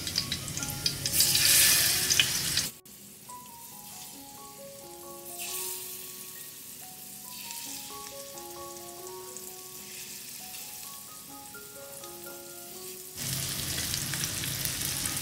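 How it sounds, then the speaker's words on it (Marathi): Whole prawns dropped into hot garlic oil give a steady, moderate frying sizzle, bracketed by louder bursts of sizzling at the start and end, while a melody plays over the middle. "आता ही पूर्ण कोळंबी आहे ती तेलामध्ये सोडलेली आहे"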